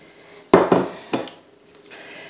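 A utensil stirring tiramisu mixture in a bowl knocks and scrapes against the sides in three distinct clinks close by, then settles into quiet.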